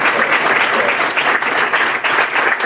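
Audience at a symposium applauding steadily, a dense, even wash of many hands clapping close by, holding at a constant level throughout.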